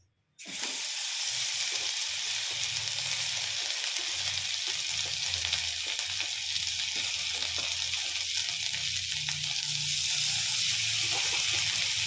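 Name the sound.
garlic paste frying in melted butter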